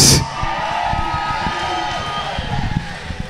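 A loud crowd roars and cheers for roller derby teams, a steady wash of noise with whoops on top that holds for the whole stretch.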